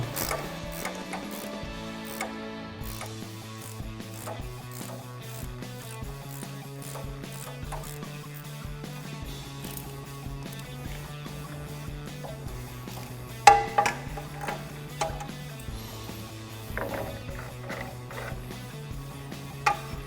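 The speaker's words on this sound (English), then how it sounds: "I'm going to take my 10mm here and get on the top of the strut." A 10mm ratchet clicks steadily on the strut top nut of a Mustang, a close, dry run of rapid pawl ticks with occasional sharper knocks as the nut loosens, no voices.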